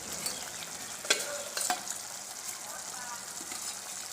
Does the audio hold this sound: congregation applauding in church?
no